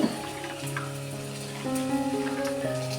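Vegetables for a traditional Konkan Bhogi bhaji, including broad beans and peas, fry in a pan. The hiss and crackle is soft and continuous, over a faint background hum.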